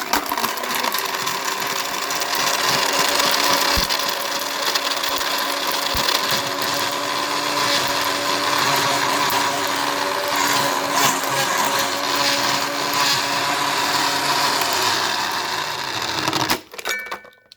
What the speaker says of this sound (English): Go right to the max. So we got high, liquefy